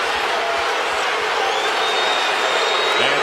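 A sellout arena crowd boos during a 2009 Lakers vs Cavs basketball game, a dense, continuous roar of many voices at steady loudness that fills the whole space.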